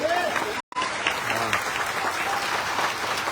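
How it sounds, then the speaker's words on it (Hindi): A round of applause from an audience at a network marketing gathering, broad clapping sustained throughout, with a brief dropout early on and faint voices mixed in. "केएस भार्गव जी के लिए एक बार जोरदार तालियां हो जाए"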